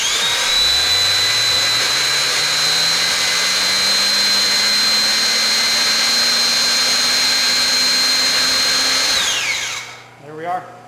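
A hydraulic scroll bender rolls a metal scroll with a steady, loud mechanical whine and hum that holds for about nine seconds, then drops away and stops, leaving a few faint clicks at the end.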